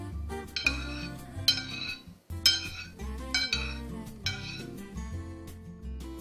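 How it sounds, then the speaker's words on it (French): A spoon stirs pepper soup in a pot, sounding as a series of metallic clinks and scrapes against the pot in irregular bursts, close and fairly quiet, with a low background hum. "Je remue un peu avant quand même."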